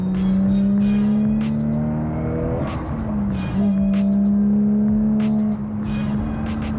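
A Lexus IS200 drift car engine revs hard, pitch rising and falling through gear changes with sharp bursts, loud and close, tires occasionally chirping.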